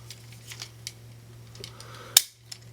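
A plastic Transformers Voyager Ultra Magnus toy jetpack piece clicks into place with one sharp, close snap, after quiet faint handling rustles over a low steady hum.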